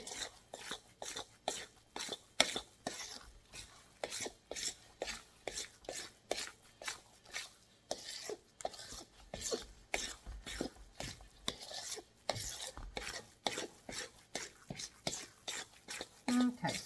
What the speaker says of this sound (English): Now you can do this in a mixer, but I personally like to do it by hand so I can see the consistency